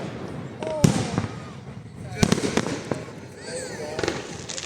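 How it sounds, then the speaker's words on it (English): A 2024 fireworks display in Bendigo sends several sharp booming bursts and crackles across the night, spaced a second or two apart, while people talk nearby. "Fireworks for the next long time."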